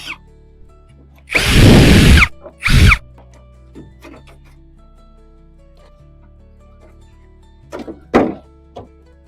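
A power tool driving off compressor mounting nuts, with two loud, close whirring bursts, one long and one short, followed by quieter clicks and a couple of sharp metallic knocks.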